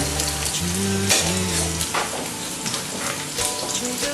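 Egg omelette with parmesan fries in a pan, giving a dense, steady sizzle with scattered crackles up close, while tonal music plays along underneath.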